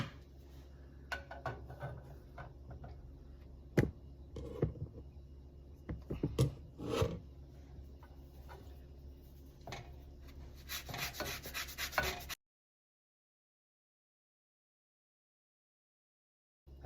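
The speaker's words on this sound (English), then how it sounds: "Now we're gonna add some orange zest." An orange being zested over a pan for crunchy orange chicken egg rolls: close, quiet rasping scrapes in irregular strokes, with a few sharper knocks and a louder grating flurry before it stops abruptly.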